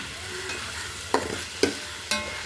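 Ginger and garlic fry in oil in a pan for a home chicken curry, a low continuous sizzle broken by three sharp spoon scrapes and clacks against the pan near the end, no speech.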